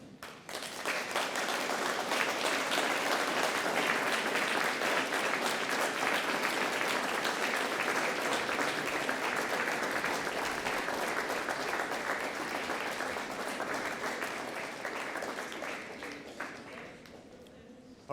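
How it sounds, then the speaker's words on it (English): Sustained applause from a large graduation crowd of family, friends and parents at a fire academy ceremony, steady and dense for many seconds before tapering off at the end. "stand up, turn around, and give a round of applause for the men and women, family, friends, moms and dads that are here today for you"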